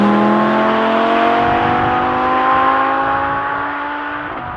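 An Audi R8 V10+ engine howls loud and close in one sustained high rev, its pitch climbing steadily before easing slightly near the end, with no talking.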